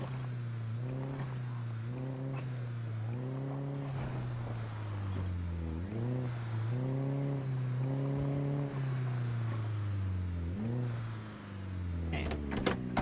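A car engine in the zombie-survival game Project Zomboid idles with a low, even hum and revs up and down in a regular series of surges. The engine is fairly close and alone, and the revving ends with a few sharp clicks.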